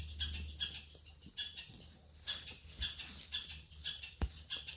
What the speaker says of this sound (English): Uh-oh, we hear a squirrel over there.